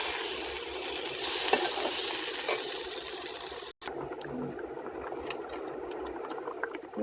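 Spinach and paneer fry in a pan for palak paneer, giving a steady close sizzle that is briefly cut off and then returns quieter with faint clinks and stirring.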